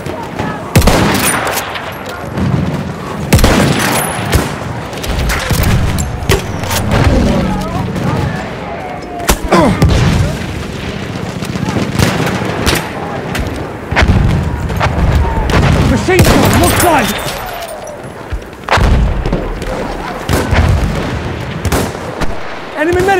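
Bursts of gunfire and heavy booms from an enemy machine gun in a video game battle, loud and repeated throughout, with voices calling out over the fighting.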